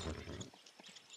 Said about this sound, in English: Let's go, horse.